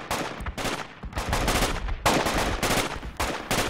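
In a video game, loud rapid gunfire is aimed at an enemy sapper, with repeated automatic bursts and brief pauses between them.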